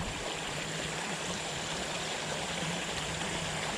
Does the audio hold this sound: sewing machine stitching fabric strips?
no